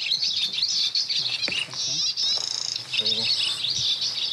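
Small songbirds chirping around fine-meshed mist nets set by amateur ornithologists in southern France, a dense run of high, close twittering calls over rustling and faint low voices.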